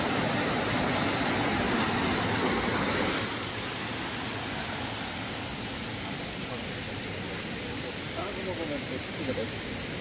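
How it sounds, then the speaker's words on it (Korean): Byeongpung Falls at Gangcheonsan in Sunchang, Jeollabuk-do, gives a steady, dense rushing roar throughout. It is louder for the first few seconds, then settles slightly softer, with voices faintly under the water. "병풍폭포입니다."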